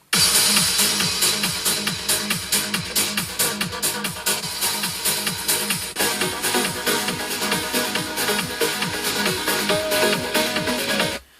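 A driving trance track running at 138 BPM, with a steady pounding kick under a dense, bright synth wall that plays loud and unbroken before cutting off abruptly at the end.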